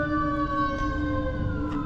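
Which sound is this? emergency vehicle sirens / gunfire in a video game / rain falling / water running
emergency vehicle sirens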